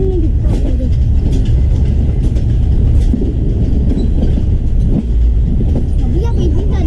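A train rolls past with a continuous loud rumble and faint clickety-clack close by, while a child and an adult talk over it.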